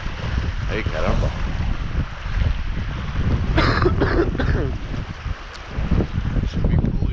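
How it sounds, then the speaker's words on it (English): Water splashes over the stern of a boat out on a moose hunt, a steady rough wash mixed with gusty wind buffeting the microphone, close and continuous with no clear speech. "Splashing over the back end."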